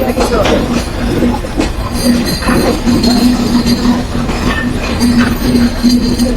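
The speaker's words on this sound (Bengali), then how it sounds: "আমাদের ট্রেনটি আবার ছেড়ে দিচ্ছে আমি আবার উঠছি ট্রেনে" The Rupsha Express pulls out of Poradah Junction in Bangladesh, heard up close with a continuous rumble, clinking carriages and rhythmic wheel noise, with a faint voice now and then.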